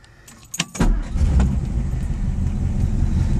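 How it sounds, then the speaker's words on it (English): A 1957 Ford Thunderbird V8 starts in neutral: keys jingle and click, then the engine cranks and catches into a loud, steady idle rumble that carries on close by. "Got to put it in neutral to start it."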